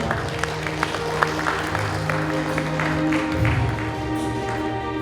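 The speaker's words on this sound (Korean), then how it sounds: "한 번 더 응원의 박수를 부탁드리겠습니다" Lecture audience gives a round of supportive applause, moderately loud clapping mixed with a steady tonal hum and some crowd murmur throughout.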